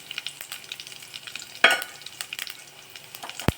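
Curry leaves and urad dal fry in a pan, giving a soft, continuous crackling sizzle with a sharper burst as the leaves go in and a brief clink at the end.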